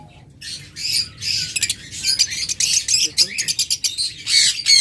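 Yellow pet birds, pairs about twelve months old at a bird seller's, squawk and chirp close by in rapid, repeated bursts, loud and overlapping, with a low murmur of voices underneath.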